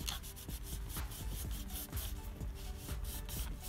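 Hardened old masking tape is rubbed off the interior console of a Porsche 944 Turbo in quick, rhythmic scrubbing strokes, close and dry with a sanding-like rasp, and no voices.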